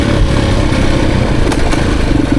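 Close, steady running of a 2023 Beta Xtrainer dirt bike engine, a continuous mid-pitched drone with slight rev fluctuations and a couple of brief sharp accents.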